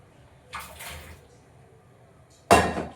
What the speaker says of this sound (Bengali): জলটা এখন গরম হয়ে গেছে সবজিগুলো আমি পুরোটাই ঢেলে দেবো